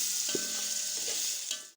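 Crushed red chilli frying in a pan for beef pulao, a loud, steady, bright sizzle of hot oil with a couple of faint stirring clinks, ending in a sudden sharp burst as the sizzle cuts off.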